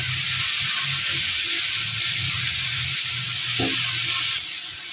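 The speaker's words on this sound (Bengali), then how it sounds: "আমি মশলাটাকে ভালোভাবে কষিয়ে নেব" A spice paste of garlic, chili powder and cumin fries hard in a pan, giving a loud, steady sizzle close up, with a few soft stirring scrapes underneath and no voices.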